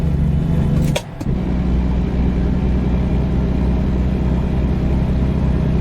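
Steady, monotonous truck engine drone from Euro Truck Simulator 2 on ProMods, a constant low hum from inside the cab with a brief dip near the start.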